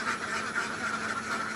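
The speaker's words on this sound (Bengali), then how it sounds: "এটার উপরে হাঁসের খামার করা হয়েছে" Ducks on a pond at a duck farm quack together in a continuous, fairly distant chorus of overlapping calls.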